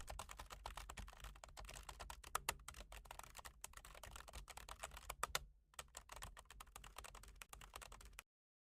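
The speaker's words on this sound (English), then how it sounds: "type this prompt here. Let me type it and then explain here." Steady, close computer keyboard typing as a prompt is entered for an AI photo restoration tool, a dense run of quick key clicks with one brief pause midway, no voices.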